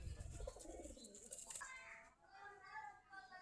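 White pigeons with feather-muffed feet, of the giribaz type, coo softly close by, brief throaty calls mixed with a faint rustle, while a person talks over them.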